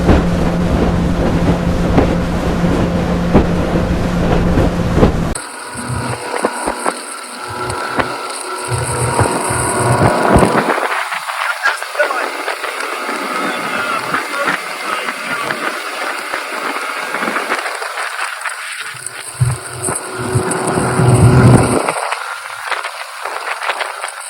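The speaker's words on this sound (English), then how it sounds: "we're crossing Charleston Harbor right now on Robert Youens' John boat" Steady jon boat motor drone with wind buffeting the microphone across open water in Charleston Harbor, continuous and loud throughout, with no voices.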